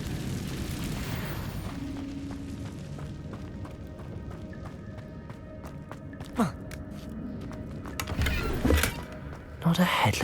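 Incendio fire spell cast in the Hogwarts Legacy video game: a few broad whooshing bursts flare up over a steady game ambience, with the loudest ones coming near the end.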